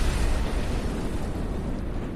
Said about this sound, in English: the overload went critical, and a massive explosion rocked Hell's Gate.